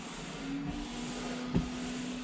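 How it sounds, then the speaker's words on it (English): Washer pump and wiper motor on a Jaguar XK8 run with a steady, quiet electric whine and hiss, and a soft thump as a wiper sweeps partway through. "let's try washers and wipers."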